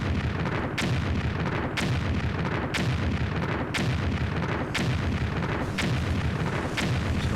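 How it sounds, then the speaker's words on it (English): Explosions from the video game Disney Infinity 3.0 go off in a steady series of about seven loud, sharp blasts roughly one second apart, each with a rumbling tail, over continuous background noise. "let's give it one final explosions test here."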